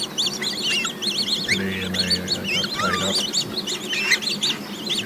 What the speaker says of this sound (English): Just feeding the ducks at the park.